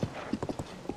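Horse galloping in Zelda: Tears of the Kingdom, a giant horse, with steady clip-clop hoofbeats in a quick repeating rhythm, close and fairly quiet.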